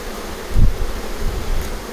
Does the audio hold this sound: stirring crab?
no